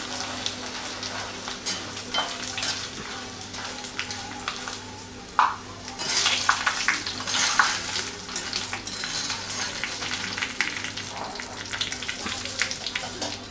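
Corn chivda frying in hot oil, a close, continuous bubbling sizzle with irregular crackles and stirring swells, loudest midway, with a handful dropped in and faint background sounds.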